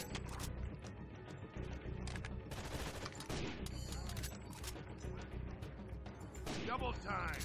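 Gunfire in the tactical shooter Rainbow Six Vegas 2, quiet bursts of rapid shots and clattering mechanical clicks coming in uneven volleys over a constant low rumble, with voices talking in between.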